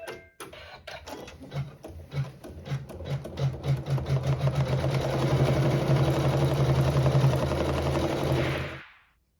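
An embroidery sewing machine stitches a flower design in yellow thread on quilt fabric, its needle clattering in fast even bursts that speed up into a steady loud whir before stopping abruptly.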